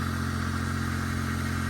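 A Smart car engine idles with failing water pump bearings, giving a steady rough drone with a faint rattling clatter, close and continuous with no talking.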